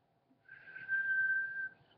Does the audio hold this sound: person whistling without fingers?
yes